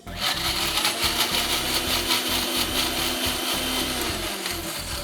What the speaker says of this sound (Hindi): करना सिर्फ इतना है कि इसको आपने मिक्सी में पीस लेना है